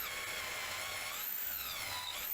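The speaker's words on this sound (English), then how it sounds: "Then I'm going to drill it with a 12mm drill bit all the way through." Power drill with a 12mm bit boring through wooden planks, a continuous high whine with gently wavering pitch, fairly faint and unbroken, with no talking.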